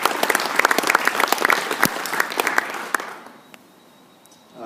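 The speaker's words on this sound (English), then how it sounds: "So round of applause for all of them." An audience at a project presentation breaks into lively applause with crisp individual claps, loud and close for about three seconds before trailing off into a quiet room.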